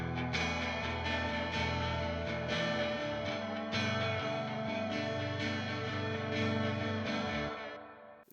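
Dream pop guitar part drenched in delay and reverb, played as a B section: shimmering sustained chords and ringing notes that wash together, steady and full, trailing off at the end.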